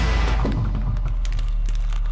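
The Ender Dragon dies in Minecraft with a loud, sustained, deep roaring rumble that stays heavy and unbroken throughout, with no voices over it.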